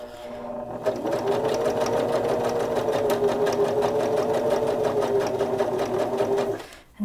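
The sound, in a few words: sewing machine stitching a Kindle sleeve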